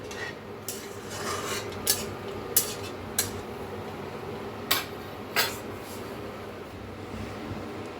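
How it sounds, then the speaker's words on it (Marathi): A spoon clinks and scrapes against a metal pot in a handful of sharp knocks while stirring dum aloo curry, over a quiet background hum. "एकदा मिक्स करून घेऊया"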